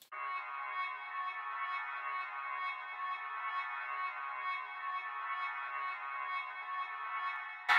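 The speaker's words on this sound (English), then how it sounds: "I'm going to play just the reverb for you guys so you can hear just what the reverb is doing" Reverb-only signal from a guitar recording, heard as a steady, dense wash of sustained tone that hangs evenly in space for several seconds without decaying, with no voices present.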